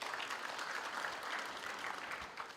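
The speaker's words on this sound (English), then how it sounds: "can we give that a round of applause?" Applause from the audience at a Walter Sisulu University graduation ceremony, a steady wash of many hands clapping at moderate distance, fairly quiet and even for the whole stretch.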